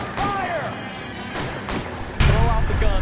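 Gunfire bursts and impacts during an L.A. Noire video game shootout, sharp cracks and booms with a heavier blast near the end, layered under game voices.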